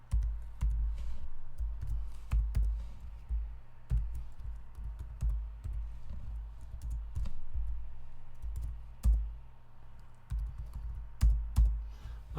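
Steady, close typing of code on a computer keyboard, a continuous run of soft key clicks with occasional louder taps and short pauses, no voices.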